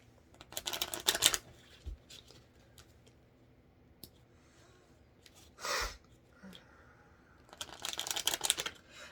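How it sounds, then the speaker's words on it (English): Three bursts of rapid card riffling, one early, one mid-clip and one near the end, close by, with quiet rustling between. "So we're done with this deck. Are we done with this deck? Let me shuffle."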